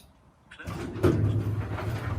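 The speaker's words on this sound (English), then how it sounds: "Close the garage door." A garage door driven by a Meross smart WiFi garage door opener starts closing after a moment of quiet, giving a steady loud mechanical rumble and rattle that continues to the end.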